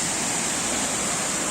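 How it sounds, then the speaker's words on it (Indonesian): Loud, dense rushing water from a waterfall along the Mount Gede trail fills the sound with a steady, unbroken roar and no voices. "pasti ini air terjun."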